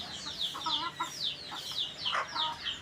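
Several chickens clucking nearby, waiting to be fed, short repeated clucks and chirpy calls overlapping at a soft, steady level.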